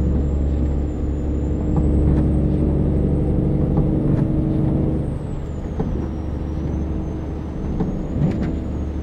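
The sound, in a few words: truck passing on snowy road, air brakes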